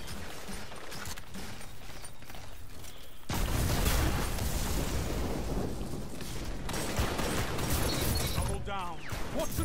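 Badlander shotgun in Destiny 2 firing in a fast, continuous volley, loud and dense from about three seconds on after a quieter stretch, with game noise around it and a brief voice near the end.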